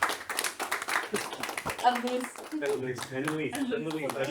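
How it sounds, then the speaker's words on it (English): A seminar audience on food systems and opportunity crops claps for the speakers: close, brisk hand claps, then voices talking over the fading applause. "give a round of applause to Nora and Nico and to all of our speakers and to everybody"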